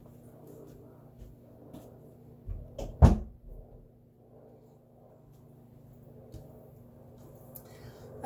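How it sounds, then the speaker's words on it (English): A house door that doesn't close properly is pushed shut, one sharp close thud with a short rattle, standing out against a quiet room with a faint low hum. "I'm gonna close the door."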